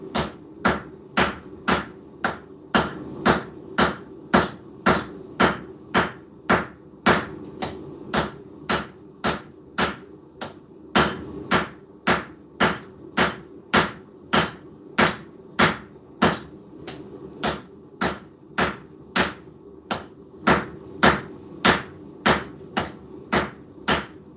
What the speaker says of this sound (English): we're going to come in and forge down on the spine area